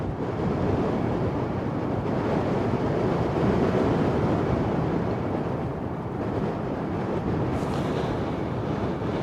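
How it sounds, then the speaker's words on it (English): Strong wind blows at the Westerschelde shore in the Netherlands, a steady broadband rush with a slight swell in the middle, alone without talking. "Massive gust of wind now."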